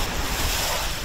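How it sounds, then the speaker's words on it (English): Wind-driven Lake Erie waves crash over a seawall, a loud, dense roar of surf and gusting wind buffeting the microphone across the whole short moment. "they are whipping the waves right over the seawall"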